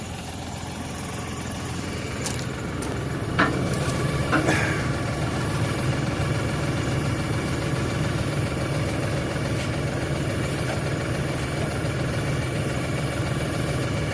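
An LS XR 4140H tractor engine runs steadily at a low, even drone while its box blade smooths a gravel driveway, with a couple of faint clinks near the start.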